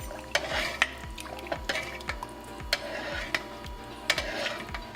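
A spoon stirring ramen broth in a metal pot, with regular clinks and scrapes against the pot repeating every half second or so under a low, steady background hum.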